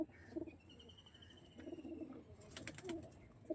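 A female pigeon gives soft low coos in a few short bursts, faint and close, with a brief whistle-like tone and some sharp clatter toward the end.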